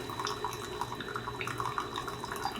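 Coffee from an Aimami single serve coffee maker pours and splashes into a cup held too low, a close, steady watery trickle with small spattering bursts throughout and no talking.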